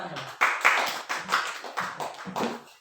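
A burst of rhythmic group hand clapping in a seventh-grade classroom, a few sharp claps in a steady pattern, close and fairly loud, with no talking.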